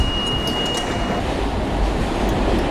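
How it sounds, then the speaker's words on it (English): A New York City subway train rumbles steadily, a dense low roar with rail noise and a faint high whine running the whole time, loud and close with no talking. "The subway"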